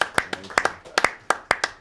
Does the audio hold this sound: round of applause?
yes